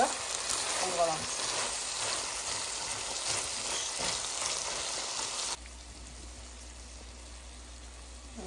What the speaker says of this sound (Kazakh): Мен сәбізімізбен картошкамызды салдық. Бұларды жақсылап араластырып қуырып аламыз.